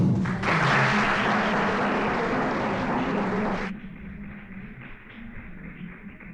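An audience at a library talk gives a dense burst of applause that fades away after about three and a half seconds, leaving quieter room noise and scattered taps.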